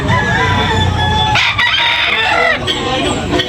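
A white Kelso gamecock crows at a rooster market in Tabunok, Talisay. The loud, close crowing is followed by clucks and other fowl in the background.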